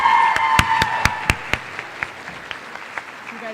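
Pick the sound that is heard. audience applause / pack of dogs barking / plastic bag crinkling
audience applause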